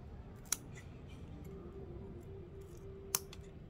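Scissors trim the bases of chrysanthemum cuttings with two sharp, close snips spaced a few seconds apart over quiet room background.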